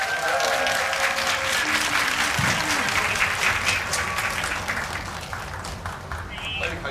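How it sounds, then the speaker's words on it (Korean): A cinema crowd at a film screening Q&A in a multiplex theater breaks into warm, dense applause that holds steady and then tapers slightly, with a voice speaking over the clapping partway through. "큰 박수 부탁드립니다."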